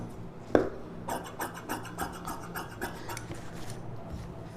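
Scissors cut through silk saree lining fabric for a blouse, with a sharp snip and then a run of quick rhythmic crisp snipping strokes close by on a cutting surface.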